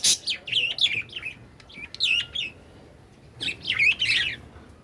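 Sparrows chirp in quick, bright bursts close by, two busy flurries separated by a quieter pause.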